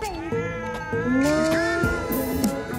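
A cat meowing repeatedly and plaintively outdoors in a park, its drawn-out wavering cries close and continuous over low background noise.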